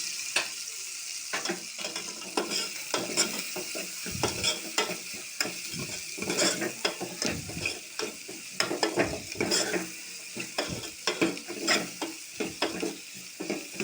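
Egg curry masala with a little turmeric stirred in a frying pan, a spoon scraping in steady irregular strokes over a constant sizzle, close and fairly loud.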